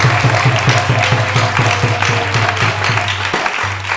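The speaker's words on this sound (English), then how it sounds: "Let's give them a big round of applause." An audience at a temple applauds its volunteers with a loud, continuous round of clapping over a steady low hum from the hall.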